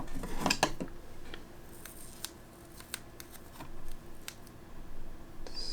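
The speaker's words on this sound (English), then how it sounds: "Cut a piece of tape here." A piece of tape being cut with scissors at a soldering workbench: a few sharp close snips near the start, then quieter scattered clicks and tape rustles.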